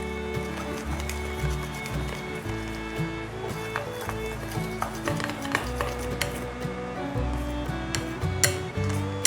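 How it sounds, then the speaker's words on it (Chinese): A utensil scrapes and clinks against a bowl while filtered water is stirred into batter, quick irregular taps and swishes close up over a low background with no voices. "倒入80 CC 的过滤水，一面倒一面搅拌，调成面糊状。"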